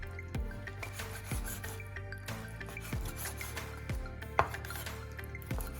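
Chicken being chopped on a cutting board for chicken noodle soup: a steady series of about six heavy knife strikes roughly a second apart, close and fairly loud, over a low kitchen hum, with no talking.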